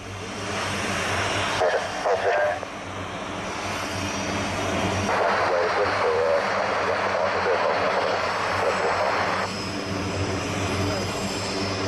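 A C-130 turboprop aircraft's engines droning loudly at a runway, a steady heavy roar with surges and propeller hum, while radio voices speak over it.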